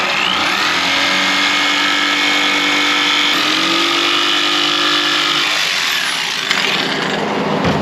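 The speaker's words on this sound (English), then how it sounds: "most everybody's going to have a little jigsaw or saber saw" A jigsaw rips through Coosa board for boat stringers, a loud, steady buzzing cut with a constant whine that carries on without a break for the whole stretch.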